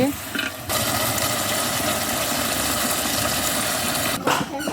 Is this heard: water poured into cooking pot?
yes